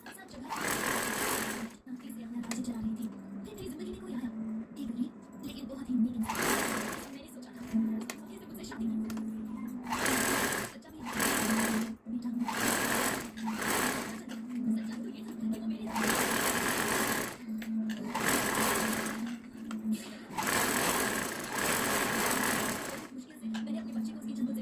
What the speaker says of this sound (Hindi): इस पर एक रफ सिलाई लगा देंगे चारों कोनों से